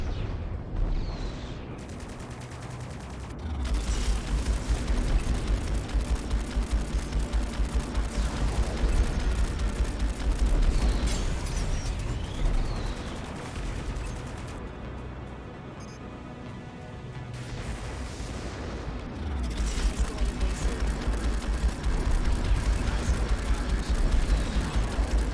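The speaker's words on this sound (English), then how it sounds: "God, how many missiles is that? Oh, that is so many missiles." Missile barrages fired in the space combat game Strike Suit Zero, a dense, continuous roar of rapid launches and blasts that swells loud, dips briefly, then surges again.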